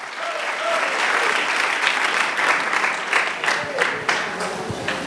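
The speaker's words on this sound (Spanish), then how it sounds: "denle un aplauso fuerte al Señor" A church congregation claps loudly together for the Lord, a dense, full applause from a crowd that swells and holds, with faint voices mixed into the clapping.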